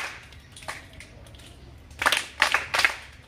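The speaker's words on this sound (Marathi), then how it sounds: "जोरात टक्क टाळी देणार आहात" Schoolchildren in a classroom clap loudly three times in quick succession, each a sharp, bright burst of many hands together. Softer scattered taps come just before.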